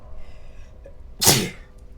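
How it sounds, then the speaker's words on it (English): A single sharp human sneeze bursts out close to the microphone after a brief quiet pause, loud and abrupt, then trails off. "I'm gonna sneeze"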